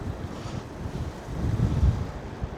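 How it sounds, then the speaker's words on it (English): Wind and rough Atlantic Ocean surf along the rocky coast at Doolin, Ireland, a steady low roar with wind buffeting the microphone, swelling slightly louder in the middle, with no voices. "Behind all that really wild Atlantic Ocean"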